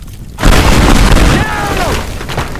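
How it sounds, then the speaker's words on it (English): A pipe bomb blast in the destruction game Teardown, one loud close boom with a rumbling tail and debris, followed by brief shifting game effects. "Hey Wimmy, catch this pipe bomb."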